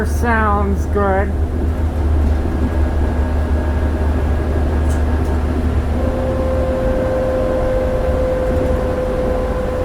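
Engine of a 2005 New Flyer D40LF transit bus heard from inside while riding, a steady low drone with a rising whine later, under light cabin noise.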